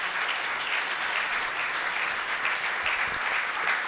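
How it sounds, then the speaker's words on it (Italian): An audience at a school evening event in Vittorio Veneto, Italy, welcomes a local council official with steady, even applause, a continuous soft wash of many clapping hands heard at a moderate distance. "vi prego di accogliere con un applauso"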